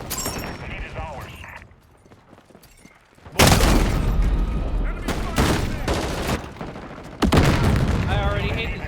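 Rapid automatic gunfire and explosions from a Call of Duty MW4 beta multiplayer match crackle loudly in dense bursts, dipping briefly before surging back with heavy sustained fire.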